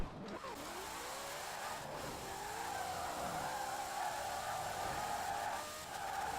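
A 1900-horsepower Ford Mustang in Forza Horizon 4 accelerating hard, its engine note rising in a steady, sustained whine that sweeps upward and holds at moderate volume, with no talk.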